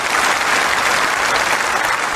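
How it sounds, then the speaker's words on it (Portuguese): Loud, dense standing ovation from the audience at the Nobel Peace Prize ceremony for 17-year-old Malala Yousafzai, continuous clapping filling the hall without a break. "Malala Yousafzai, de 17 anos, foi aplaudida de pé."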